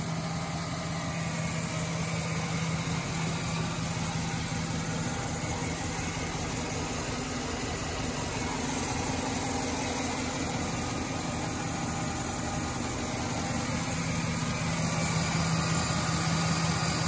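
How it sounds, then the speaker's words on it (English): A 2009 GMC Sierra 1500 pickup's 4.8-litre gas V8 idles steadily and evenly, heard up close at the engine bay with a constant low rumble and no talk. "Gonna walk up to the motor and let you see in here just how it's running."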